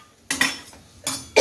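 A lid set onto a cooking pot of cluster bean (gavar) curry with crushed peanuts on a home stove. It makes several clanking metallic knocks in quick succession, fairly close, with no voices.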